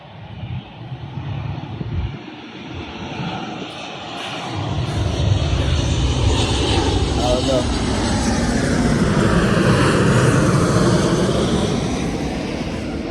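A propeller airplane drones overhead, its steady roar swelling louder and staying broad and continuous for many seconds.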